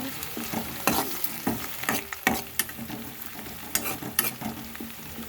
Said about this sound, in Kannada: ಈಗ ಇದು ಈರುಳ್ಳಿ ಫ್ರೈ ಆಗಿದೆ